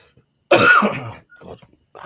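A person with a lingering cold gives a single harsh throat-clearing cough up close, followed by a couple of softer, smaller throat noises.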